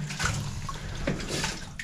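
Water splashing from a wooden bucket at an 1800s Welsh mine, a short wet slosh with trickling water over a steady noisy background, nearby and fairly loud.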